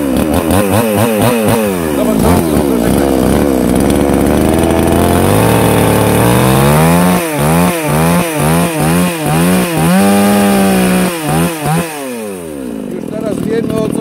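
BAUMR-AG PRO BMR-CS57 petrol chainsaw running loud and close, holding a steady whine, then revving up and down in a rapid series of throttle bursts before easing off, with a voice heard now and then.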